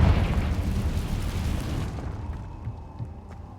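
A Confringo spell explodes in the Hogwarts Legacy video game with a loud, deep blast that starts at full force and then rumbles away over a few seconds into a fading tail.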